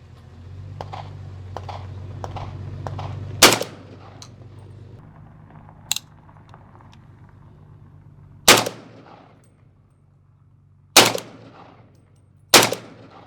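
PSA Krink rifle in 300 Blackout firing supersonic rounds from a 30-round magazine at an outdoor range, loud sharp cracks spaced a few seconds apart, one preceded by a quick run of softer clicks.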